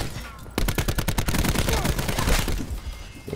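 A rapid burst of automatic fire from an enemy in the shooter game Call of Duty: Black Ops 4 rattles loudly, close by, in a fast steady rhythm for a couple of seconds before trailing off amid other game noise.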